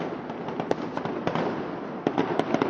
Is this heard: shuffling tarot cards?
no